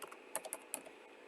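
Brief typing on a computer keyboard, with a handful of sharp, quick key clicks in an uneven rhythm, close and fairly quiet, with no voice.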